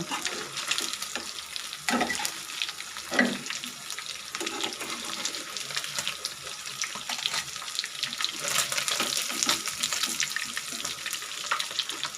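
Fish frying lightly in oil for a stalk-vegetable curry, a steady broadband sizzle and crackle running close and continuous throughout, with a few louder stirring or turning bumps.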